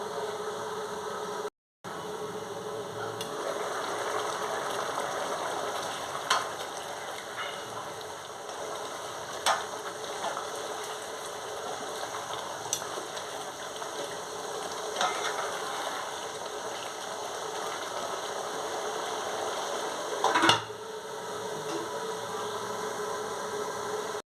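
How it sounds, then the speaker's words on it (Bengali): Chicken meat being braised and fried in a pot for a chicken curry, a continuous moderate sizzle with occasional soft clicks of stirring; there is a brief dropout near the start. "মাংসটা একটু কষিয়ে নিচ্ছি"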